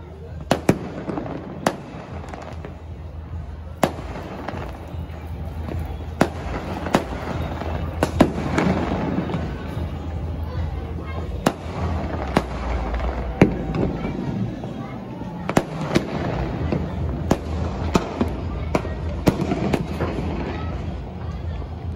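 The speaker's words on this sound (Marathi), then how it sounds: "फटाके फुटतच आहेत." Diwali firecrackers burst as fireworks go off around a neighbourhood seen from a home balcony, sharp cracks scattered irregularly at varied distances over a constant low rumble, with people talking intermittently.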